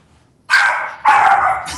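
A dog gives two loud, close barks in quick succession, each a sustained burst, with no talking over them.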